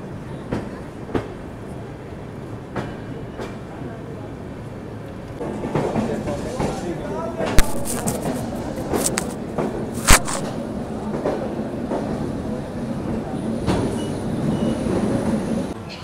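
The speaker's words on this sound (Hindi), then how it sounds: "एकदम आगे जा कर के ट्रेन को प्लेटफॉर्म पे लिया" The Vaishali Express rolls onto a station platform with a low rumble, rhythmic wheel clacks and a few sharp metallic squeals and clanks, heard from on board amid faint background voices.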